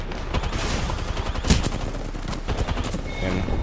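Rapid bursts of automatic gunfire and scattered shots fill a video game firefight, loud and nearly continuous, with one heavier crack near the middle.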